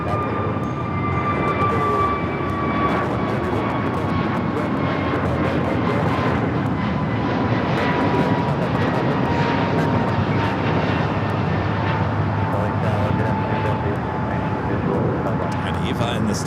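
An EVA Air jet in Star Alliance livery, Flight 12 from Taipei, taxis at LAX while making a left turn onto a taxiway; a steady, loud engine roar with a whining tone fills the whole stretch beneath occasional radio-style talk.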